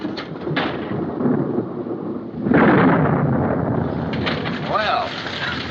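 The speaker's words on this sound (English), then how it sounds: "What's that? Just lightning." Thunder rumbles through a storm in a 1941 film, with rain and wind noise, a loud swell of rolling thunder midway and people speaking over the weather.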